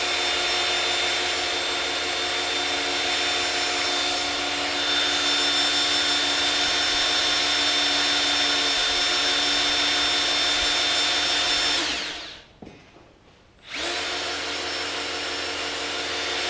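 Small block or big block Chevy engine having its oil pump primed with a drill before startup, a steady loud whirring drone that cuts out briefly near the end, then resumes.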